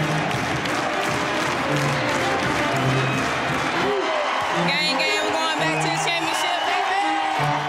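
Arena crowd at a college women's basketball tournament game, a sustained roar of applause, whoops and cheering that stays loud throughout, with a commentator talking over it.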